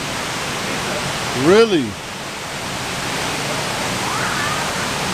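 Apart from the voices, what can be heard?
raging river rapids below a jungle trail in Costa Rica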